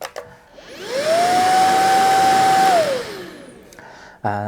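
A Kalado KCV01 cordless vacuum cleaner switches on, its motor whine rising to a loud, steady hum close by, then winding down and stopping, with a brief click at the end.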